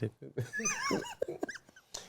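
A puppy whimpers and yips in quick, high, squeaky bursts close by, mixed with a few short growly sounds.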